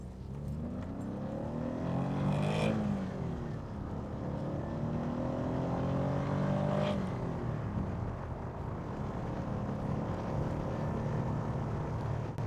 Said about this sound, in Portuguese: vamos fazer nossa puxada de sempre e podemos ver como o motor se comporta